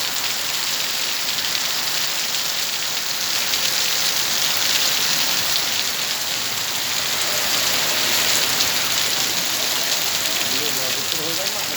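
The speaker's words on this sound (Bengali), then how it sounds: "এই ভয়ঙ্কর বৃষ্টির ভিতরে, বিজলি ঠাডার ভিতরে আপনারা ঘর থেকে বের হবেন না।" Heavy rain pours down onto a flooding street during a thunderstorm, a dense unbroken hiss of drops close by that holds steady throughout with no clear voices.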